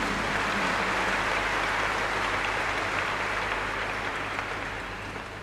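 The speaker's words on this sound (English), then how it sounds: "Can you clap for yourselves again?" A large church congregation at a Chrism Mass in Abuja claps loudly and continuously, a thick wash of applause that gradually fades near the end.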